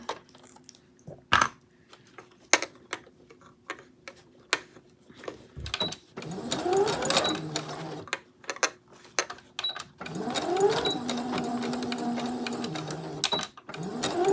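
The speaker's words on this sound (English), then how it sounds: "I'm back stitching here because I'm going to go over this little bump I have here." A domestic sewing machine back stitching through maxi skirt fabric runs in several close, loud bursts of rapid needle clatter, broken by short pauses and scattered clicks as the fabric is repositioned.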